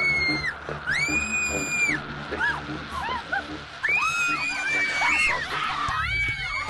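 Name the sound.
people shrieking in terror in a haunted barn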